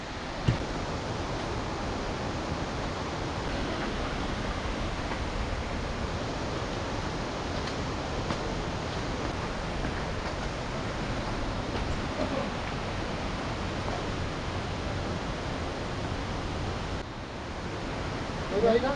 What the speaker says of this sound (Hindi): और पानी का साउंड भी पूरा आ रहा है